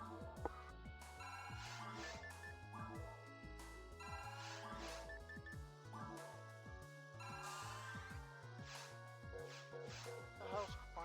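A phone ringing with a melodic, repeating ringtone pattern that plays steadily in the foreground, with a voice briefly audible alongside it.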